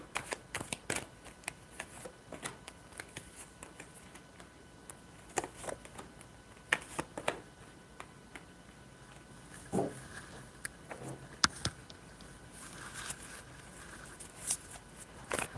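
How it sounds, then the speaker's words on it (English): A deck of cards is shuffled for a card reading in a series of quick riffling bursts and soft taps, close and quiet, with pauses between them and no talking. "I'm going to pull cards for TVXQ UKnow."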